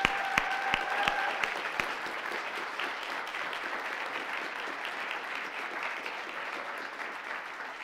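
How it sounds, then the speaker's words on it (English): Audience at a moot court board competition applauding the finalists, dense steady clapping from a room full of people with a few sharp close claps at the start, holding evenly throughout. "Please give them a round of applause."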